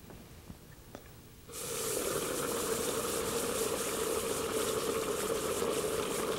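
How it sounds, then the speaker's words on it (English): A cryocup lowered into liquid nitrogen sets off a sudden, steady roar of boiling and bubbling that starts after a short quiet moment and continues loud and close with no talking. "Dipped in the liquid nitrogen for 10 to 15 seconds."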